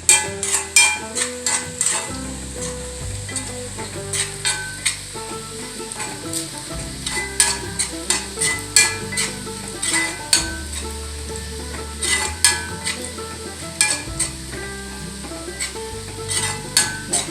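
Sliced onions fry in a pan for Kerala-style ghee rice, sizzling loudly and continuously while a utensil scrapes and clinks against the pan in frequent, irregular strokes, close up with no talking.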